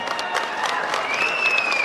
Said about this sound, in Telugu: గట్టిగా లేచి చప్పట్లు కొట్టి వీళ్ళకి కావద్దని తెలియజేయండి